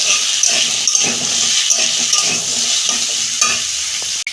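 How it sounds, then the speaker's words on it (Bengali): Papaya and potato pieces frying in a pan for a vegetarian curry, a loud close sizzle running steadily throughout with rhythmic stirring scrapes under it and a sharp knock at the very end. "পেঁপে আলুটা তখন ভাজা হোক"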